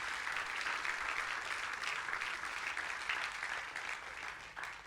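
A church congregation claps in a steady, even round of applause that stays fairly faint and distant for about five seconds, gradually tapering at the end.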